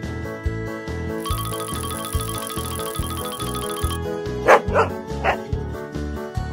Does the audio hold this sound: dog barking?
yes